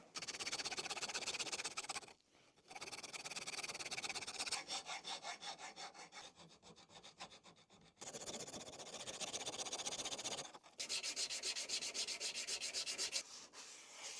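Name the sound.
filing and sanding parts of a model plane smooth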